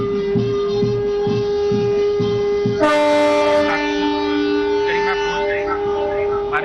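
Trains are flagged off at a railway inauguration ceremony in Gujarat, including Kevadia express and MEMU services, with long, loud sustained horn blasts that shift in pitch partway through over a steady continuous background.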